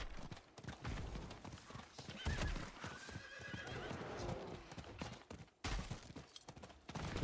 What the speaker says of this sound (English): let's ride our hell horse